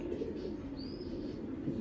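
Racer pigeons of the Birder breed give soft, continuous cooing close by, with one brief whistle-like chirp partway through and steady low murmuring throughout.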